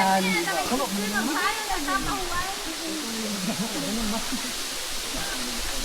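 Ipa-Ipa Falls, a waterfall in Capisan, Zamboanga City, pours with a steady broadband rush that runs throughout, while several people talk and call out over the water noise.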